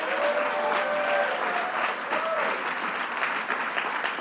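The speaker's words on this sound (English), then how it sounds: "Let's give our great Manhattan Borough President Gail Brewer a round of applause" Loud, dense round of applause from an audience at a bill-signing ceremony, many hands clapping continuously, with a faint voice briefly heard underneath.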